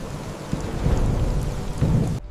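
A thunderstorm with heavy rain roars continuously, with deep thunder rumbles swelling twice before cutting off abruptly near the end, loud and close.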